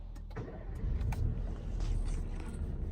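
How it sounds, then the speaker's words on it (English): A Vauxhall Grandland X starting up after a service light reset, with a low engine rumble and some clicks close by, steady throughout the short clip. "and then we'll start the vehicle up"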